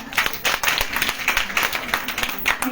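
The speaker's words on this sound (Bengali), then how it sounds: "আপুর জন্য আরেকটা করতালি হয়ে যাক।" An audience claps for a female guest at an event, a busy burst of handclaps at close range that carries on steadily, with some voices mixed in.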